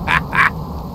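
An angry chicken in the video game Subsistence gives two loud, harsh, squawking calls in quick succession, close by and alone, with only a low background hum behind them.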